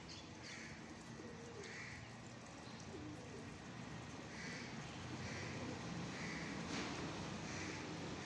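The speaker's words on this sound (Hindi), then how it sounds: "ये आप देख सकते हैं कबूतर।" Pigeons on and over a rooftop during a pigeon-flying session, with soft cooing and occasional chirps against a constant outdoor background hiss, fairly distant and unaccompanied by talk.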